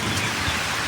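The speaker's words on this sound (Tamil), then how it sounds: "ஏமா மழை பெய்யுது" Steady rain pours down in a dense, continuous hiss with no voices, close and fairly loud throughout.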